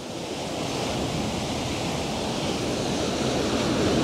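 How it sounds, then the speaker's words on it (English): Ocean surf rolls in as a steady broad wash of noise with some wind buffeting the microphone, building slightly louder toward the end. "The waves are starting to come back in."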